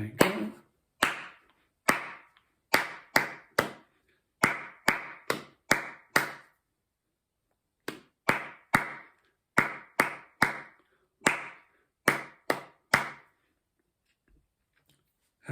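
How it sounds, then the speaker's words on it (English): A single person claps hands alone in a steady rhythmic ostinato, crisp close claps in short repeating groups with brief pauses between phrases and no talk. "Okay, and here I come clapping."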